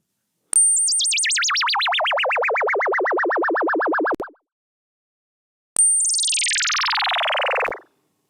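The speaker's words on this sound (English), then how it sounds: "Here's the same diving tone with an LFO applied as well." Two self-oscillating synth filter tones dive from a high pitch downward, the first warbling in a fast regular LFO wobble, the second sweeping down smoothly before cutting off.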